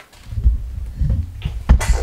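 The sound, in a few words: sneeze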